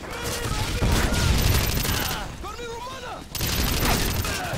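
Gunfire in the shooter game Modern Warfare 2 during an online match: loud, dense bursts of rapid automatic shots rattle almost continuously, with one short lull and crackling impacts, while faint voices occasionally sound underneath.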